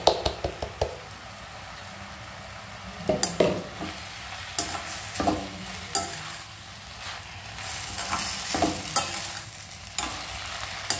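Vermicelli with grated coconut gets stirred in a pan: repeated scraping, clinking strokes of a spatula against the metal in irregular bursts over a soft, steady background.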